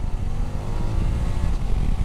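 A 2023 BMW 750 GS motorcycle engine pulls hard under acceleration, a dense, rough mid-range drone heard close up from the saddle amid wind rush, with no talk.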